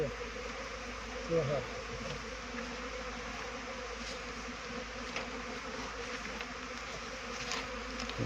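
Continuous dense buzzing of many honeybees on orientation flights around a hive, steady and close, with a brief louder passing drone near the start.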